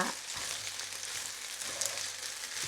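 Quiet, steady sizzling of butter melting in a hot pan, close up, with a faint low hum underneath and no voices.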